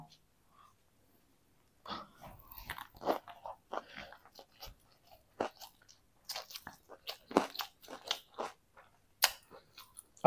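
Someone eating chicken biryani close to the microphone, with scattered wet chewing, biting and smacking sounds in irregular bursts against a quiet background.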